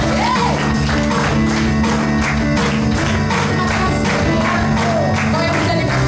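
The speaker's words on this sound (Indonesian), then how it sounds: "Tepuk tangan dulu buat Tuhan." A church congregation claps in steady rhythm during a praise and worship service, the clapping sharp and regular over loud live music and singing.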